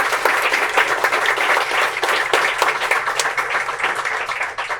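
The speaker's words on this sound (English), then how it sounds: "let's give them a great round of applause." A crowd gives a full, dense round of applause for the camera operators at a high school district Student of the Year ceremony, steady and loud throughout with no speech.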